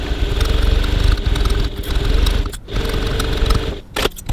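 A home sewing machine stitches a 1/4 inch (6mm) seam at stitch length 2.4 on a handbag phone pocket, a steady close motor whir with brief pauses and stops near the end.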